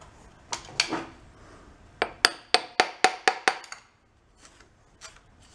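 A hammer strikes an engine connecting rod still attached to the crank during teardown of a failed engine. Two early knocks are followed by a quick rhythmic run of about eight sharp metallic blows, then a few softer taps, close and clear.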